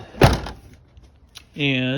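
A trailer door is pushed closed, giving one solid thunk near the start, followed by quiet handling noise and then a steady tonal whine.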